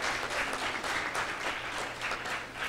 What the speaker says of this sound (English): Give them a nice round of applause for their good hard work